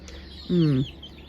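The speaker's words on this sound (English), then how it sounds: "here's some quality rooster footage in the morning" A single short cluck from a nearby chicken rises out of faint morning background ambience, with a rooster and hens present.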